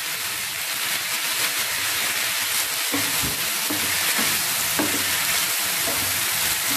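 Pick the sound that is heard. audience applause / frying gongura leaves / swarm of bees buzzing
frying gongura leaves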